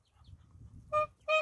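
Geese guarding a brood of goslings give two short, nasal honks after a quiet, low rumbling murmur, fairly faint and alone.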